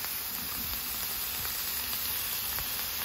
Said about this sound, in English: We're trying to get that intense sear on these steaks